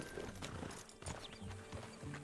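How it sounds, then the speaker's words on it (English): Horse hooves clip-clop in a steady, uneven rhythm at close range in the video game Red Dead Redemption 2, with a faint background hum and no voices. "Get your horse and let's go."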